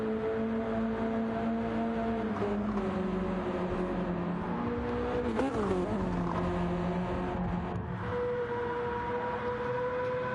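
Race car engine on the Nürburgring Nordschleife in a sim racing endurance event, a loud steady drone that rises and falls in pitch through gear changes, one quick downshift blip midway, close and continuous with no voices.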